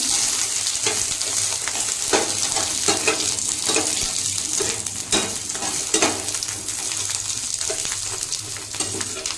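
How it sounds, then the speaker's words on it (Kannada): Bell pepper (capsicum) frying in a spoonful of oil on low heat in a pan, a steady close sizzle broken by repeated scraping stir strokes, with no voices. "ಈ ಥರ ಸ್ವಲ್ಪ ಮೆಣಸಿನ್ಕಾಯಿ ಸ್ಲಿಮ್ಮಲ್ಲಿ ಇಟ್ಕೊಂಡು ಚೆನ್ನಾಗಿ ಹುರ್ಕೊಳ್ರಿ"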